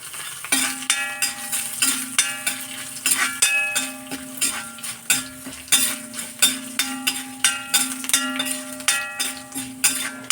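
Dried red chilies and crushed garlic frying in a pan for curry leaf powder, with a soft steady sizzle under repeated rhythmic scraping and clinking of a spatula against the pan.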